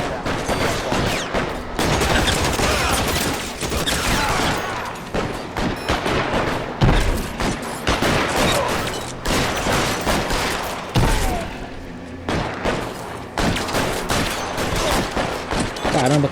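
Gunfire in the L.A. Noire video game: loud, dense bursts of repeated shots, fusillade-like and nearly continuous with brief gaps, dominating the scene with no talk over it.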